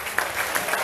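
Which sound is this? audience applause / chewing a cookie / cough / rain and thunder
audience applause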